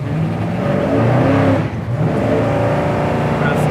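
A 1955 Chevy 3100 restomod pickup truck engine revs loudly up through the gears, dipping briefly at a shift before pulling hard again, with steady road and wind noise.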